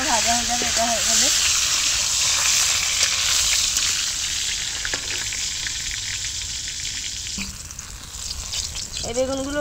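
Eggplant slices frying in oil in a pan, a loud continuous close-up sizzle that runs throughout, with a voice talking briefly at the start and end.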